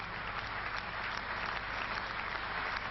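Audience applause at a political rally in a large hall, dense and continuous clapping heard at moderate distance, steady from start to finish.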